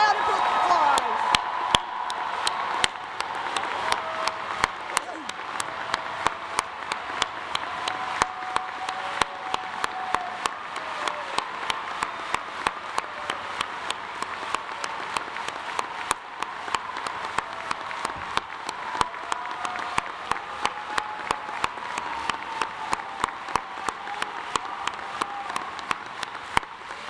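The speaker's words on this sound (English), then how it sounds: "Everyone join me in giving these graduates one more round of applause." A 2022 commencement audience in Gentile Arena gives the graduates a long, steady round of applause, with sharp claps ringing across a large, reverberant hall for nearly half a minute.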